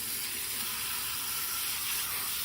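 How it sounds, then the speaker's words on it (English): Garden hose with a spray nozzle washing down the coils of an outdoor central air conditioner unit: a continuous, even hiss of spraying water, steady and close, with no pauses. "take a regular hose and a sprayer"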